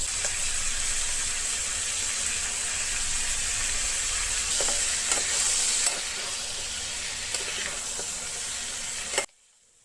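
Pieces of fish frying to medium in a pan, a continuous dense sizzle with faint scraping, steady and close, then cutting off abruptly near the end.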